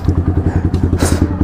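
Motorcycles ride by before dawn on a mountain trip, their engines thumping in a fast, even rhythm close by, with a brief hiss near the end.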